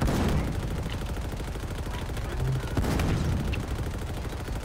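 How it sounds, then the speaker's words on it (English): Main cannon fire from a vehicle in the Halo Infinite video game, a dense, loud run of booming blasts over a rumbling battle din that stays heavy throughout. "Firing main cannon."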